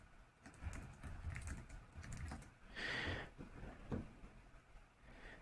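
Quick, light taps on a computer keyboard come in an uneven run of keystrokes, faint and close, with a brief soft rustle partway through.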